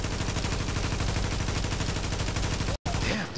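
Sustained automatic gunfire from a D36 rifle in The Division's Dark Zone, a dense rapid stream of loud shots running almost continuously, broken by one brief gap near the end before firing resumes.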